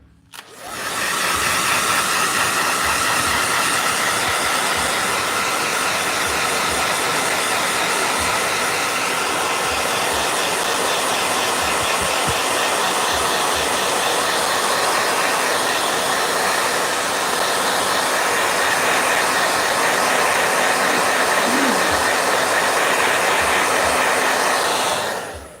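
A blow dryer running continuously at a steady, loud whir with an even airy hiss, used while painting a Bifur miniature from The Hobbit, uninterrupted for the whole stretch.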